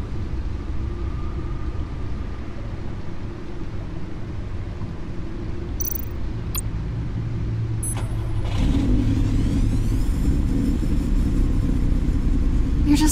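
Powerful 600-horsepower car engine in a Batman game idles with a steady low rumble, then revs up louder near the end with a rising growl, alone without talk.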